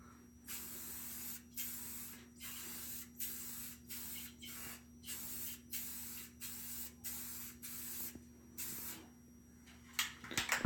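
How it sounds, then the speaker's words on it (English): Clear coat is sprayed from an aerosol can onto a part for a 2004 Duramax, about ten short hissing bursts in a steady rhythm with brief gaps, close and fairly loud over a low background hum, ending in a few clicks. "I feel like you put a lot of clear coat on at one time."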